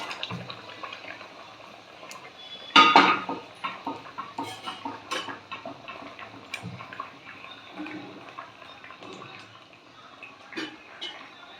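Fried prawns drop one by one into a simmering curry broth with potatoes, starting with a sharp splash and then a scattered run of softer plops and liquid bubbling at close range.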